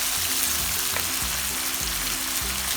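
Steady sizzling in a hot pan as garlic and onion sauté with chicken broth added, a constant frying hiss throughout with low rhythmic scraping or stirring underneath.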